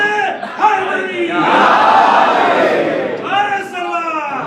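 Crowd at a Muslim majlis gathering bellowing a loud collective shout in response to a religious slogan, one swelling roar lasting a couple of seconds, framed by chanting voices before and after.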